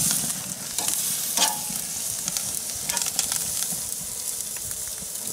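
Steak seared over high heat on a Big Green Egg grill and flipped partway, giving a steady, close, loud sizzle with crackling hiss and small spitting pops throughout.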